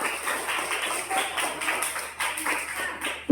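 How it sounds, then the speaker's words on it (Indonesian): A class applauds a group presentation in a Christian religious education teacher-training session: steady, dense clapping from many hands lasting a few seconds, fairly close and evenly sustained. "Untuk kelompok 4 kita berikan aplaus yang paling meriah"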